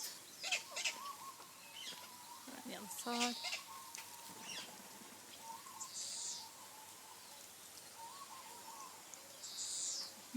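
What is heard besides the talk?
birds calling at a bird sanctuary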